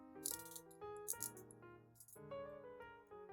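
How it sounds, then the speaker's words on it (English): A Heimdallr Sharkey diver watch bezel turned by hand, giving a quiet sequence of metallic rattling clicks with springy ringing tones, close up and faint. "Now the bezel is more clackety clack, so you can hear the spring"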